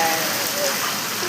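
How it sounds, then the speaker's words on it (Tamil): Heavy rain pours down steadily at a lake, a dense, loud hiss of drops on surfaces heard close by. "செம மழை"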